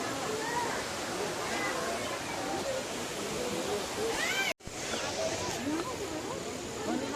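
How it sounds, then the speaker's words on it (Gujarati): Spring water rushing down from above beside a forest shrine to Khodiyar in the Dhari jungle, a steady broadband roar that fills the whole stretch, with a brief dropout partway. "તો અહીંથી આ પાણી ઉપરથી આવે જો."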